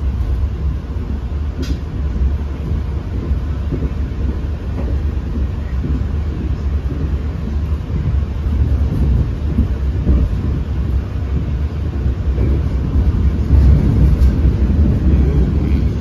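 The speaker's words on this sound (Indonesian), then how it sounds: "Papasan kereta Pasundan dari Surabaya Gubeng ke Kiara Condong" Pasundan passenger train rumbling past a Taksaka express train on Java's rail line, a continuous loud low roar and rattle heard from inside the moving train with no talk.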